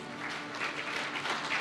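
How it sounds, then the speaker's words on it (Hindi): Audience at an Independence Day ceremony honoring the army chief applauding, a steady, moderately distant wash of many hands clapping. "एक बार फिर से तालियों के साथ"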